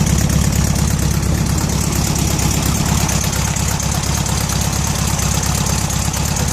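A car engine idles close by, a loud, steady, even rumble with a fine rapid pulse that holds unchanged throughout.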